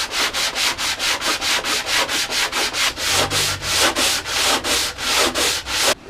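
Plywood table saw sled with its runners jammed tight, dragged back and forth in rapid, regular strokes, giving a loud, close, rhythmic scraping rub of wood on wood with no voices.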